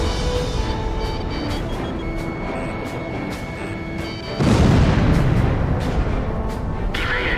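Missile launches and explosions from the aerial combat game Ace Combat Zero on PS2 rumble beneath faint cockpit radio, then a heavy booming blast surges in midway and rolls on loudly to the end.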